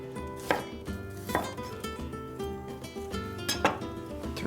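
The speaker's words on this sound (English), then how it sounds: "Slice up half of a small red onion." Half a small red onion is sliced with a knife on a cutting board, producing a steady series of crisp, close chopping taps with a few sharper strikes.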